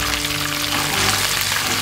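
A pan sautéing curry paste until fragrant gives a steady, dense sizzle that stays loud and close throughout, with no pauses and no voices over it.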